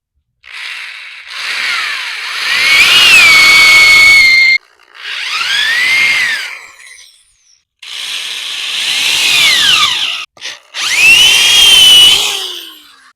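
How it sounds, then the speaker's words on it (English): A power drill whines in four separate bursts, its pitch climbing and settling each time as it drives a screw into an Adjust-A-Gate AG72 gate frame, loud and close with short pauses between. "make sure that you drill the correct way"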